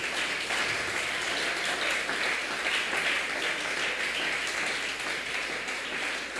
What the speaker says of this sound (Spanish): ¿Cuánto podemos darle un fuerte aplauso al Señor?